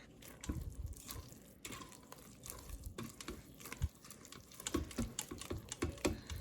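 Cooked lentils with a bay leaf are stirred in a pot, giving soft, quiet wet clicks and scrapes in an uneven run of small taps, close and faint.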